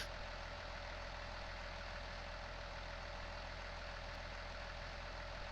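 A tractor engine idles steadily in the Farming Simulator 19 video game, a constant loud, even rumble with no change across the stretch and no voices over it.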